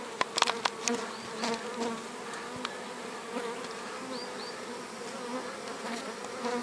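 Honey bees buzz around beehives in a soft, steady hum with a few louder passes close by, and the sound carries on with no talk over it.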